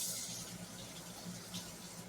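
Hot water runs from a kitchen tap while canning jar rims are rinsed and wiped for home-made heirloom tomato juice, a steady, fairly quiet hiss of flowing water that continues for the whole stretch, with no talk over it.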